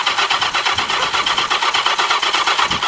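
Motorcycle-powered dune buggy engine cranking and starting, a fast rhythmic churning pulse that is loud and close throughout, with no talk over it.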